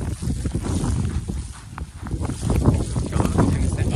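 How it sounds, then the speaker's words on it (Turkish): Gusty wind during a snowstorm on a road between Tantallon and Halifax, Canada, a rough low roar that swells and fades against the microphone, with a voice speaking intermittently over it. "Hem kar yağıyor hem rüzgar var."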